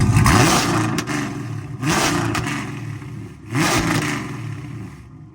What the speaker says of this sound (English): let's go ahead and give it some revs